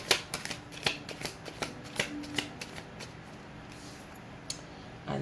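Tarot cards riffle and snap in a quick, uneven run of crisp bursts, close and fairly quiet, with the card sounds alone and no talking over them.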